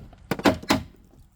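The door of an ex-police BMW catches against the wing as it moves, giving three quick close knocks and scrapes in a short burst, with no voices.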